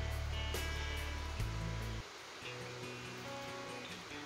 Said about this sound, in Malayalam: വെള്ളം വറ്റുന്ന ശബ്ദം ഉണ്ടാവും തേങ്ങ വറുക്കുമ്പോൾ